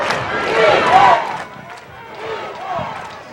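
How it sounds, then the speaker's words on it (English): A crowd at a high school football game between Northview and Prattville cheering, a loud swell of massed voices that rises, fades and rises again, with commentators talking over it. "The crowd is back into it."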